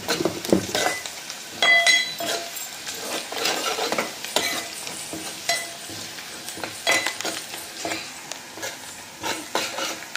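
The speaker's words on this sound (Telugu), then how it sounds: "కరివేపాకు, ఇదిగోండి వేగుతుంది." Curry leaves and turmeric sizzle in a hot pan for a chikkudukaya masala curry, with steady frying crackle and repeated stirring scrapes and clinks of a utensil against the pan, close and moderately loud throughout.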